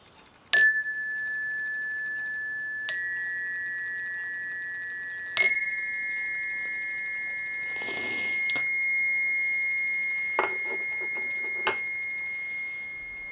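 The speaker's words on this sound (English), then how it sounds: "I love to hear the sound of the chimes" Little chimes hanging by a home altar ring out clearly in four separate bright strikes, each leaving a long sustained shimmering tone, with small softer taps near the end in an otherwise quiet room.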